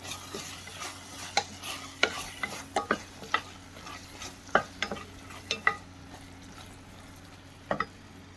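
Tomatoes and coriander stirred in a cooking pan, a series of short scraping clicks of the utensil against the pan over a low background hum, with soft sizzling between strokes.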